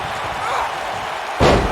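A wrestler's dropkick to an opponent's knee lands with one loud, abrupt slam on the ring mat near the end, after a stretch of low crowd murmur and arena ambience.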